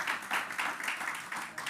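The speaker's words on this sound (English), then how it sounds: "Please give them another round of applause" An audience at a United Nations Jamaica partnership forum gives a short burst of steady applause, fairly even and moderately loud, with no voices over it.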